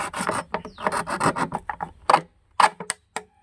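A plastic container being cut by hand to make a homemade fertilizer holder, heard as a close run of rough, rasping strokes, fast at first and then slowing into a few separate scrapes with short pauses between them.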